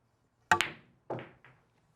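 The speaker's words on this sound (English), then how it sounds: "This is a force follow shot." Pool cue ball struck for a force follow shot: a sharp close cue tip hit, followed by two quieter ball clacks fading away.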